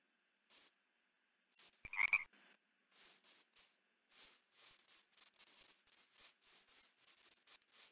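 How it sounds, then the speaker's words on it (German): Frogs in Minecraft croak in a string of short, fairly faint bursts spaced through the quiet, interrupted once near the start by a louder rubbing crackle. "Irgendwo sind hier Frösche."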